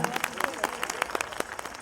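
Applause from an audience at a Jashn-e-Urdu poetry gathering: quick, scattered claps with sharp individual hits over a brief, busy stretch, with a voice faintly beneath.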